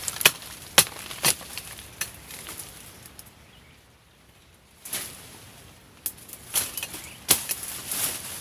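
Birds around a bird trap set in the middle of a field furrow: scattered, sharp flutters and wing-flap bursts, some close and loud, with quiet gaps between them.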